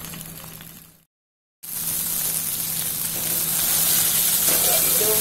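Arbi leaf pakoras fry covered with a plate over a low flame, giving a steady broadband sizzle that drops out briefly near the start, then returns and swells slightly louder toward the end.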